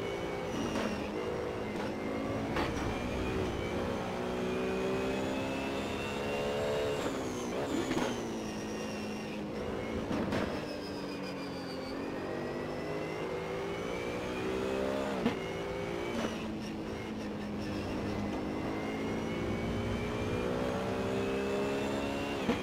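A race car in Assetto Corsa runs qualifying laps, its engine whining up through the gears with brief drops at shifts. The sound stays continuous and fairly quiet, with no voices.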